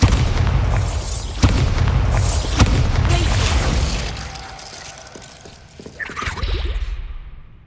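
A loud Bombarda spell explosion in the video game Hogwarts Legacy opens with heavy booming bursts and sharp cracks, then fades into a whooshing, crumbling tail with scattered debris and a softer rumble.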